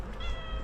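A single short cat meow, close and fairly clear, lasting under a second.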